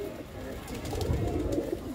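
Pigeons at a breeder's sale in Ludhiana coo softly in low, throaty murmurs that overlap against a busy background hum, close and continuous.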